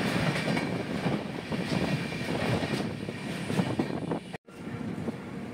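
The Agartala–Deoghar Weekly Express runs at night on the Agartala–Badarpur section, its steady rumble and clattering wheels continuous and close, with one abrupt brief dropout near the end.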